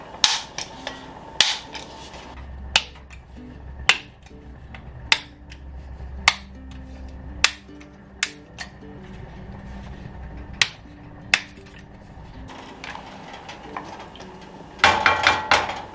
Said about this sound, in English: I'm just going to go ahead and break these up into pieces